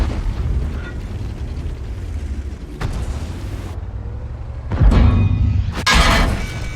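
Tank shells burst and boom in the World of Tanks video game, several heavy explosive impacts from a 50TP prototype-era tank battle, loud and close, with rumbling gaps between the hits.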